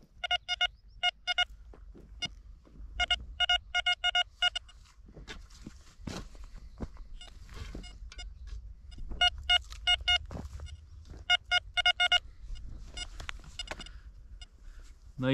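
A metal detector searching for relics and coins in the ground gives repeated bursts of high electronic tones, separated by pauses. Digging scrapes and footsteps sound in between.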